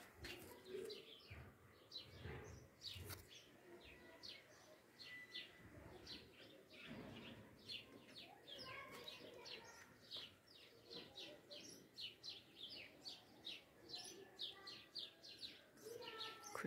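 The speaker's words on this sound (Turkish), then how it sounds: "Kuşlar çıkıl çıkıl ötüyor." Small birds chirp and tweet continuously in a garden, a busy layered chorus of calls close by and farther off, with a low outdoor rumble and occasional soft sounds underneath.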